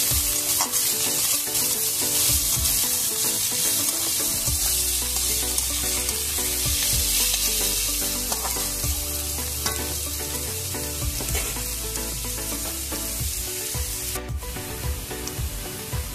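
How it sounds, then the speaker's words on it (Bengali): Ingredients for egg tadka sizzle steadily in a hot pan at close range, with scraping and stirring sounds throughout and no talking. "এটাকে একটু ভেজে নিতে হবে"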